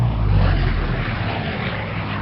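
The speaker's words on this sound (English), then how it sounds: "we just watched an incredible display of a helicopter and an airplane" Electric radio-controlled airplane flying at an outdoor electric model festival in Arizona, a steady low motor and propeller drone held close and loud throughout, with no talk.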